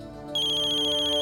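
Phone ringtone starts abruptly and rings on steadily as a bright, sustained electronic tone, close and clear in a Hindi TV drama scene with no talk over it.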